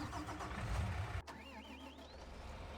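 A Russian-style tractor in a farm sim video game cranks over with a loud burst, then settles into a steady mid-pitched idle whose whine rises and wavers, heard close and alone.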